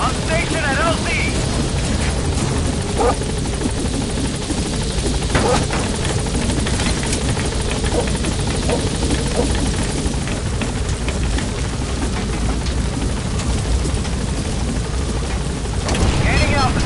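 In the Metal Gear Solid V video game, a helicopter arrives at a landing zone with a loud, continuous rotor drone and wind rush, and muffled voices come through over it.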